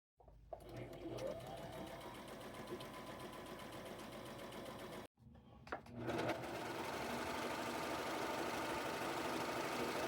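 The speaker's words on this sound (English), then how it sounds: "And then I run it through my serging machine for these edges out here" A serger sewing machine stitches along the edges of a thrifted T-shirt, running steadily and close by. It briefly stops partway, then restarts and continues at an even, loud whir.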